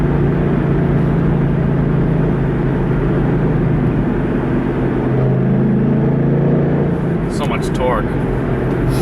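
A 2013 Ford Mustang GT CS with 420 horsepower pulls hard, its engine droning loud and steady in the cabin with a rising sweep near the end, a voice talking over it.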